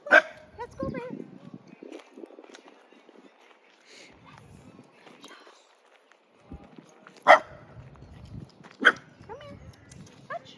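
A reactive puppy on a leash lets out several sharp barks and yips, loudest at the start and in two sudden bursts near the end, with quieter rustling and a person's speech in between.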